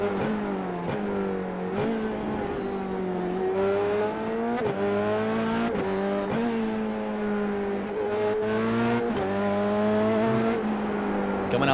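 A race car in a racing series is heard from onboard. The engine rises again and again through the gears, with some drops on downshifts, and its loud, steady whine stays close throughout.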